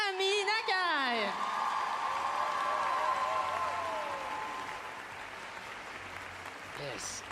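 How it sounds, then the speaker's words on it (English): Arena crowd at the Grand Prix de France figure skating event applauds the women's free skating winner Ami Nakai, a broad wash of clapping and cheering under an announcer's voice that fades gradually toward the end. "on l'applaudit un cœur, notre gagnante, Ami Nakai"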